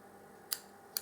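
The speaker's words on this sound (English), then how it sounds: "I'm going to use the scissors from UD." Two crisp, close snips from small scissors trimming wick in a rebuildable vape atomizer, spaced about half a second apart over quiet background.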